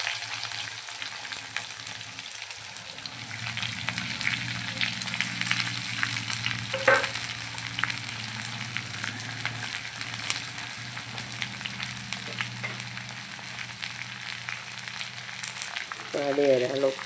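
Garlic and onion fry in a pan for an egg curry, a steady crackling sizzle running throughout with occasional scrape of stirring, ending in a short burst of clatter.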